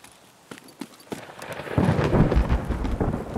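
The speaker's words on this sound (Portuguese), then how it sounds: "esse clima de chuva é muito louco nesse jogo." Rainy weather in the Escape from Tarkov video game, with scattered drops and rumbling at first, then a dense, steady downpour hiss swelling into a loud, continuous roar with low thunder-like rumble underneath.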